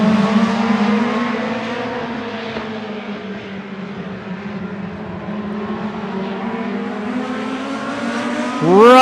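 Race cars on a super short track accelerating at a restart, a loud layered engine drone with rising and falling pitch as the pack passes, ending in a sharp rising rev close by.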